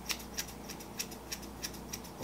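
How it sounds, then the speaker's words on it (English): Hair-cutting scissors snip through bangs in a quick, even series of about eight crisp, quiet cuts at close range. "I'm gonna take hair cutting scissors and I'm gonna cut into that"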